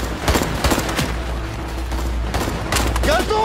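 Rapid bursts of gunfire from a Russian action film dubbed in French, several sharp shots rattling over a steady low rumble, with shouted voices breaking in near the end.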